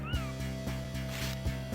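A pet cat meows in short, soft calls over steady background game music, with brief voice sounds in between during a relaxed cuddle.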